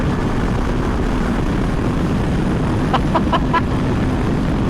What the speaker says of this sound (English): Full throttle, full throttle. Let's do the top speed.